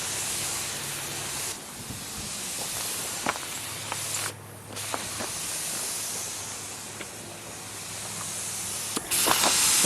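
A spray gun sprays 2K Rustoleum paint with a broad, continuous hiss in long passes, broken by brief pauses between strokes, with faint shuffling footsteps nearby.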